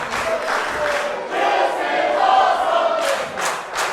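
A wrestling crowd on its feet at a live PWF show, a dense sustained roar of cheering and shouting from many voices, steady and loud with brief surges.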